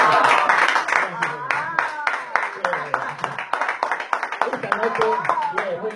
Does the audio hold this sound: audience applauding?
yes